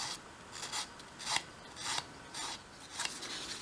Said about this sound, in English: make sure you're not digging the sandpaper into your edge there